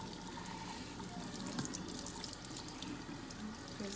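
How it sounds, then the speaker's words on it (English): Tap water runs steadily into a sink while an orange tabby kitten is rinsed, a close, continuous splashing hiss with no talking over it. "Ooh, is that a lot of water?"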